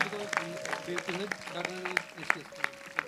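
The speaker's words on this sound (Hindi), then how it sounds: "जोरदार ताली बजाकर धन्यवाद दें" A church audience claps loudly to thank a woman who came from Italy to give a testimony: steady, rhythmic hand claps in unison ring out under sustained voices, fairly close and lively.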